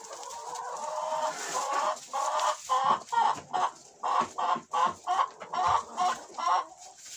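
Speckled Pushkin breed hens, a St. Petersburg-bred farm breed, cluck close by in a barnyard. A steady run of short, rhythmic clucks rises into a regular pulsing series, fairly loud and with no talk over it.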